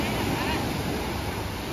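Ocean waves roll and crash on a beach in Rio de Janeiro in a continuous loud wash, mixed with heavy wind buffeting the microphone.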